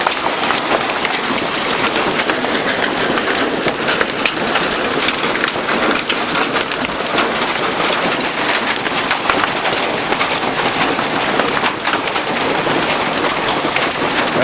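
A hail storm batters a farm, with dense, loud clatter of hailstones pounding surfaces and parked cars nonstop, a sharp, rattling roar and no voices.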